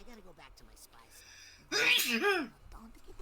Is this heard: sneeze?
yes